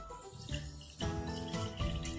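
Orange liquid poured into a container for growing crystals, a steady splashing trickle with small tinkling notes that swells and eases in a few pulses, close and alone.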